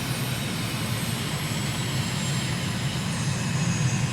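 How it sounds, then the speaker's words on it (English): Aircraft landing on the runway at Harare, a steady broadband engine and wind roar heard from inside the cockpit, even and continuous with no talk. "So we're landing"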